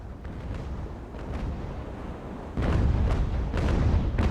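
Cannon and musket fire from friendly troops in an Age of Sail battle game, heard as continuous distant rumbling volleys with scattered booms that grow louder and denser partway through.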